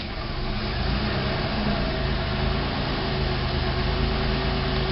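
A Pontiac with a GM 3.4 liter engine and about 50,589 miles idles after a cold start on a November day, a steady, fairly loud mechanical hum with an even low rumble and no voices.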